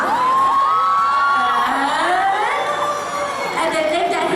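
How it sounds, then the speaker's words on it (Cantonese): A fan-meeting audience in Hong Kong cheers loudly and continuously, with high shrieks and whoops layered over a dense crowd roar that never drops away. "俾啲掌聲聽下"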